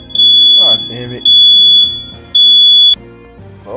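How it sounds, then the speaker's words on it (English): A smoke detector alarm in a house gives three loud, piercing high-pitched beeps in a steady on-off rhythm, with voices and game sounds faintly underneath. "Fire alarm just went off in my house."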